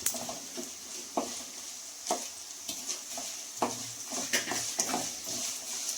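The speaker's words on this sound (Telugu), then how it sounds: "చూడండి క్రిస్పీగా వేగింది కదా కరివేపాకు, చూడండి సౌండ్ ఎలా వస్తుందో" Curry leaves crackling crisply in hot oil for a tomato pickle, a steady close sizzle broken by sharp scrapes and clinks of a spoon stirring the pan, with no talk.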